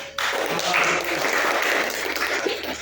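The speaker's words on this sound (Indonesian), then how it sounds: "kita beri tepuk tangan untuk tadi siapa namanya?" Steady audience clapping fills a classroom, starting abruptly and holding at an even, fairly loud level for a few seconds, with faint talk underneath.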